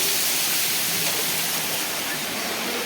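Rainwater flooding a college workshop and classroom at Govt ITI Balangir makes a loud, steady rushing wash, like heavy water pouring and streaming, constant throughout.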